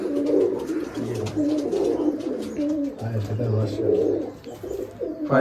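Giribaj pigeons coo repeatedly in low, throbbing calls inside a room at a Rajshahi pigeon farm, several birds overlapping close by while someone speaks over them.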